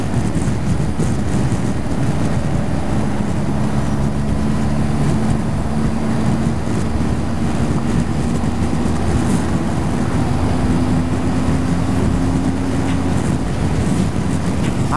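Riding a 2021 BMW R1250 GS Adventure motorcycle, a steady low engine drone with a faint sustained tone, heavily buffeted by constant wind rushing over the microphone throughout.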